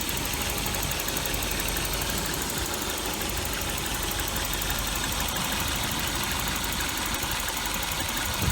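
A 1988 Volvo 740 with a five-speed idles steadily and close up, a continuous even mechanical hum with a faint ticking texture throughout and no speech.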